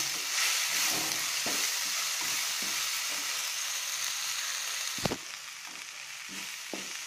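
Spice powders, salt and crushed pepper sauté in a pan for shakshouka, a loud, continuous close sizzle broken by regular soft scrapes of a spatula and one sharper knock near the end.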